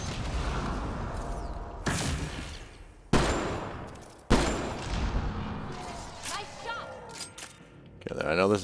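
Turret gunfire in Mass Effect Andromeda, several sharp loud bursts and booms separated by short gaps, with mechanical clatter and a voice talking in between.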